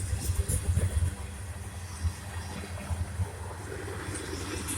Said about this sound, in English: That sounds like an engine.